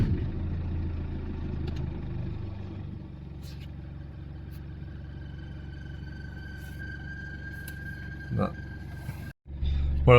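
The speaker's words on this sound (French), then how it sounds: "Là la voiture tourne bien, elle a son régime" A Jaguar Ingenium diesel engine idles steadily with a low, even rumble, fairly quiet and close, with a faint whine and a brief knock near the end.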